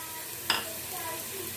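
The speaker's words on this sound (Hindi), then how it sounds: "अब इसमें हम ये खड़े गरम मसाले डाल देंगे।" Whole garam masala spices dropped into hot frying oil, giving a brief sharp sizzle burst that quickly fades into a soft, steady crackle.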